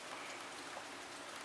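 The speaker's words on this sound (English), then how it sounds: "it's all raining and shit" Rain pours steadily outdoors, a dense, even hiss of drops striking surfaces, continuous and fairly close throughout the short stretch, with no voices.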